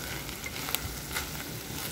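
Corned beef and onions, with potatoes, fry in a pan, giving a steady, close crackling sizzle with a few sharper pops and no voices.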